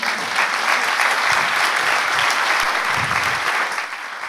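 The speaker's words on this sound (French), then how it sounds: "on peut les applaudir, s'il vous plaît." A seated audience at a round-table talk applauds in steady, dense clapping that holds throughout without pause.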